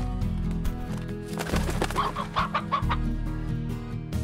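Chickens in the video game Slime Rancher cluck in a quick run of close, loud calls over a layered game music bed.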